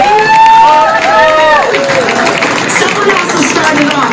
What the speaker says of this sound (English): Can we get a round of applause for Ali?